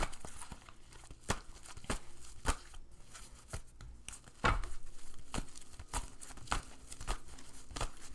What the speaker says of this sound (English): Got too many cards in my hand. It's hard to shuffle.